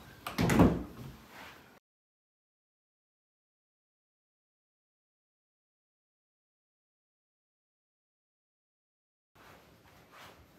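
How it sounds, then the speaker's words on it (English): Double closet doors in a rehabbed house bedroom open with a short, close thump and rattle, then silence, with a faint soft handling noise returning near the end. "double door to the closet"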